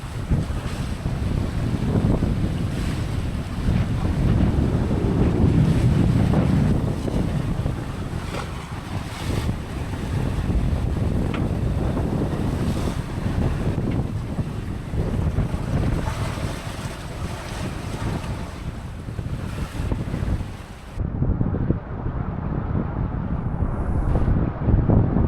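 Wind roars steadily at night aboard a sailboat crossing open Caribbean sea from the Caymans toward the Honduras islands, with waves rushing against the hull under constant loud gusting noise on the microphone.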